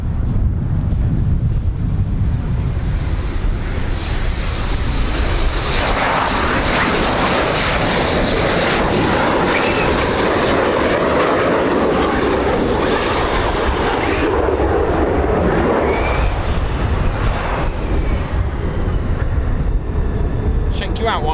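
US Air Force F-15 fighter jets at RAF Lakenheath give a loud, broad jet roar that swells and peaks mid-way before tapering, with wind buffeting the microphone and people talking over it.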